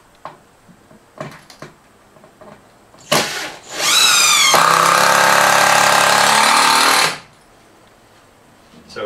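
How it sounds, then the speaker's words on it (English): A power drill drives screws into a workbench: a few light knocks and clicks, then a loud whining burst that ramps up in pitch and holds steady for a few seconds before cutting off. "we're just going to put in enough screws"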